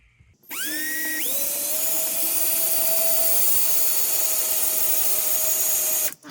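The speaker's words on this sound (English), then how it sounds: "this one has a security bit, so we're just going to drill it out." A power drill whines steadily at high pitch while drilling out a security bit, starting with a rising spin-up, then grinding continuously for about five seconds before stopping abruptly.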